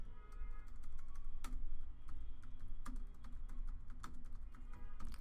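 Steady keystrokes on a computer keyboard while text is entered in a WordPress editor, a continuous run of close, fairly quiet clicks with a few louder key strikes, no speech.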